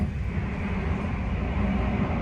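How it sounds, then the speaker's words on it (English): Steady, loud rumble and rattle inside a first-class passenger train carriage in the Netherlands, bound for Zwolle, droning on without pause or speech. "Okay, so we're on the train and we're on our way to Zwolle."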